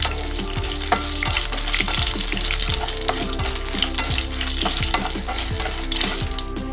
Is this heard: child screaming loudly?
no